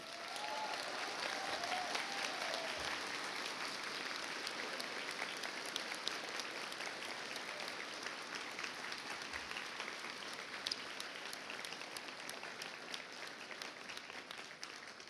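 Steady, continuous applause from a large audience at a graduation ceremony honouring the standing faculty, sounding distant and even, without pause across the whole stretch.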